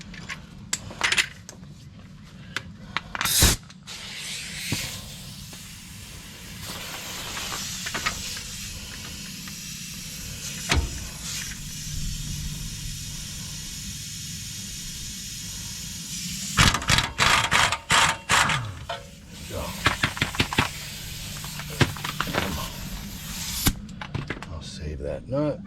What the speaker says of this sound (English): I'm going to try to spin this thing right off of here.